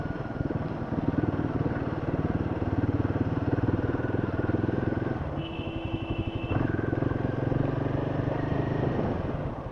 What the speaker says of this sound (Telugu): ఇప్పుడు ఆ బైక్ పోతుంది కదా